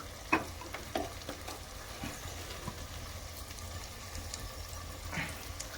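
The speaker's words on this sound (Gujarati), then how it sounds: "હવે પછી આમાં આરામથી હલાવી નાખવાનું" Food frying in a pan is stirred with a utensil, giving soft scraping clicks and knocks over a low, quiet sizzle close by.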